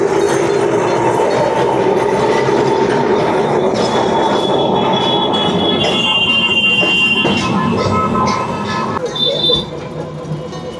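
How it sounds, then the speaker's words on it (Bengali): A Kolkata tram on the Gariahat to Esplanade route rumbles steadily from inside, wheels rattling and squealing on the rails, with a loud continuous drone that eases near the end while passengers talk. "এই ট্রাম ছিল প্রাচীন যুগের একমাত্র গণপরিবহন।"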